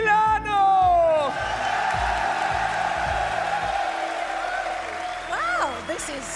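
A large crowd at a Gran Turismo World Series event in Milan cheers and applauds, a strong roar at first that settles into sustained clapping, with an announcer's amplified voice speaking over it.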